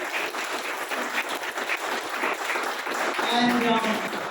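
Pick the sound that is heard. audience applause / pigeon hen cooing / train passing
audience applause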